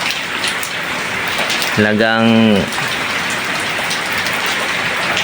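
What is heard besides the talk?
heavy rain falling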